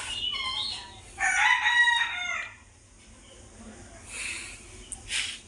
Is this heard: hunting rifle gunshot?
no